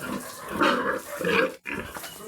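A pig being bathed on a farm gives repeated grunting, squealing calls close by, several bursts in a row with a short silent gap between them.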